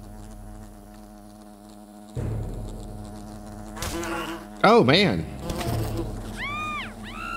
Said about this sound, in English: They weren't kidding around about these wasps.